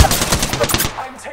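Rapid video-game gunfire crackles in a dense burst of sharp, close shots lasting about a second, then trails off into quieter background noise.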